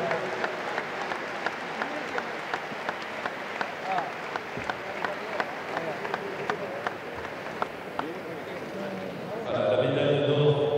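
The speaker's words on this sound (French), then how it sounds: "les applaudissements du Rayalay pour ces sportifs" Sustained applause from the crowd at the Biarritz Basque pelota world championship podium as the Spanish team and their coach receive awards, steady clapping throughout, then louder, fuller crowd noise rising near the end.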